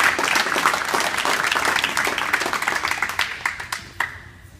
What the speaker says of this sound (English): we owe you a round of applause for working and protecting our valley.